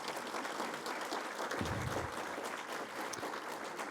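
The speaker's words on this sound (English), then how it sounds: "Let's give her a round of applause" Audience applause at an alumni awards banquet honoring award recipients, a steady wash of many hands clapping throughout, moderately distant and even in level.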